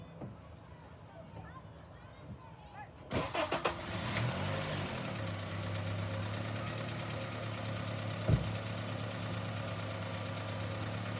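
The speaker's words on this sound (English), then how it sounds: "I'm gonna start it up and see if we can see any change in the harmonics" A Honda car engine cranks and fires after a quiet stretch, settling into a steady, close idle with a low hum and a single brief knock partway through. Someone talks at times.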